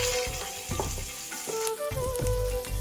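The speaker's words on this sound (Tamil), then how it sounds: "இப்போ தக்காளியும் சேர்த்து வதக்குங்க" Finely chopped onions and tomatoes sauté in hot oil with cinnamon and whole spices for a mutton kola urundai gravy, giving a close, steady sizzle broken by clinks and scrapes of stirring, with no talking.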